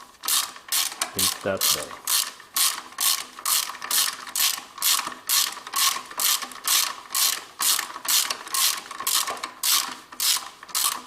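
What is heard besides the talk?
ratchet wrench loosening Toyota Camry engine mount nut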